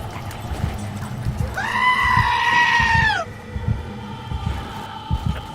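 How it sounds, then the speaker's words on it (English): A goat bleat played from a soundboard during a Soma horror game session, one sustained, wavering bleat lasting over a second, loud and close, with game sounds and talk around it. "When did the goat get here?"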